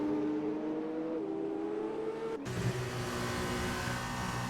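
An F2 race car engine drones steadily on the long back straight at Baku in a racing game, holding a high even pitch before a gear change lifts it into a louder, brighter whine.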